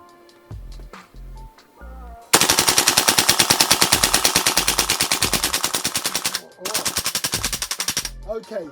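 A Golden Eagle M4 gas blowback airsoft rifle fires full auto in two long rapid bursts, loud and close, with a short pause between them and a few faint clicks before the first burst.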